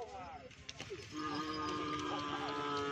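Small cow mooing outdoors at a morning gathering on a field in Pamekasan: a drawn-out, harmonic bellow rising in the second half, with crowd chatter and background noise throughout.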